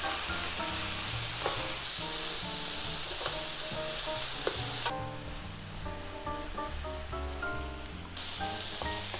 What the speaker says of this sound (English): we're going to stir fry, fully cook the eggplants for about 5 minutes